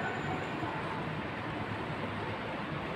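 A train at Singapore's Dhoby Ghaut MRT station, a faint, steady rumbling roar of rail cars that fills the whole stretch without pause.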